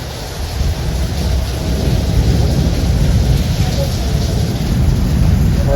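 A thunderstorm with heavy rain, rumbling thunder and gusty wind forms a loud, unbroken wash of noise close by, with no break throughout.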